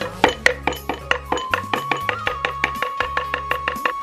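Steady rhythmic chopping of smoked H'Mông-style buffalo meat on a board, sharp evenly spaced knife thuds close up, about four per second, with no voices.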